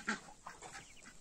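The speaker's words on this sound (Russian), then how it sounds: "Вот мои Курочки адлер серебристый" Soft, faint clucking from a few Adler silver chickens in the distance at evening, irregular and low in volume.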